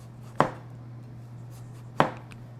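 Two sharp knife chops on a cutting board as vegetables are sliced for dehydrating, spaced well apart, close and clear over a steady low hum.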